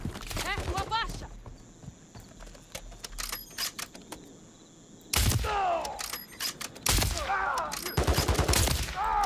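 Gunfire in Call of Duty Modern Warfare 3 comes as scattered sharp shots and bursts, with a dense, loud volley toward the end, mixed with in-game noise and voices talking over it.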